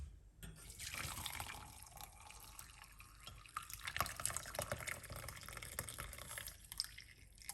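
Liquid from a honey and garlic preparation is poured off, a faint trickle with soft splashes and drips running steadily from start to finish.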